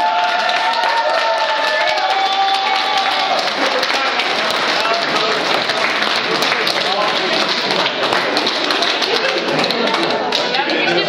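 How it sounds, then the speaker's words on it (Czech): Applause and cheering from wedding guests after the bride and groom kiss, a dense, steady wash of clapping and crowd noise throughout, loud and close, with voices mixed in. "Potlesk."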